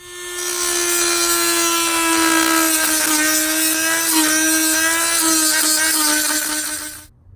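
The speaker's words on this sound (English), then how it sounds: "now you can see I've made my final cut and you are done with your Dremel" A Dremel rotary tool cuts through plastic gauge housing for a Fiat 500 Abarth, a loud, high, steady whine with a strong tone that wavers slightly as the bit bites, running continuously for about seven seconds before stopping abruptly.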